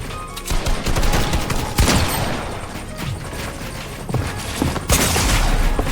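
Dense, continuous gunfire from a Fortnite match during a 1v1 Zone Wars tournament, with bursts of rapid shots and heavier blasts layered over one another, loud and close the whole time, with no talk.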